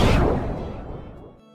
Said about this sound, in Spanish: se supone que es una pistola, pero no me, suena más parecido al trueno